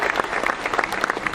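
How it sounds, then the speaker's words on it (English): Audience applause for Mav the sea lion at a zoo seal show, a crowd of many hands clapping steadily and briskly, fairly loud and close, with individual claps standing out from the wash. "How about a big round of applause for Mav?"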